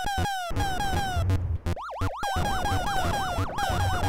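Asteroids arcade game sounds: a repetitive throbbing background beat like a quickening heartbeat, under sweeping laser zaps and descending bleeps plus several bursts of explosion noise, loud and busy.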